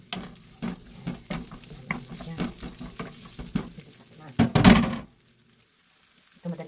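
Garlic flower stems frying and being stirred in a hot pan, sizzling with repeated scraping and knocking of a utensil, a louder burst near the end before it quiets.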